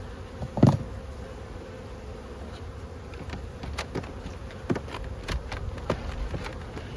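Honeybees buzzing at a hive while being fed sugar syrup, a steady close drone of many wings with a few louder individual bees passing near, no voices.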